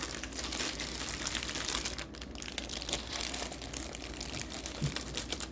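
Baby back ribs being wrapped tightly with the ends folded in: close, continuous crinkling and crumpling with a few sharper crackles, no talk.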